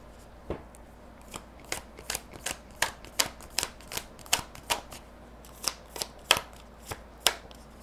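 Tarot cards are shuffled and drawn by hand in a quiet room, a series of crisp, separate card snaps and flicks that come at an irregular pace, close up and clear, with no talking.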